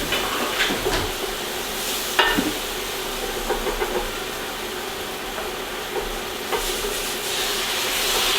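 Liquid is whisked into a light-brown roux in a pan for a chicken tetrazzini casserole, producing a continuous bubbling sizzle with scraping whisk strokes throughout, steady and close.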